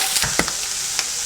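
Sausage sizzles in a frying pan, a brief, steady crackle with a few sharper pops and spatters close up.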